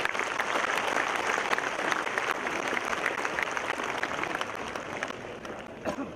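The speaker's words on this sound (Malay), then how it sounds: "Kita berikan tepukan bermula." Audience applause at a political party general assembly gathering, a steady, dense round of clapping from a large crowd that holds fairly even for about six seconds, heard alone without speech.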